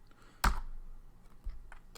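Keys clatter on a computer keyboard as a Linux command is typed, one loud close keystroke and a few softer taps scattered across a quiet moment.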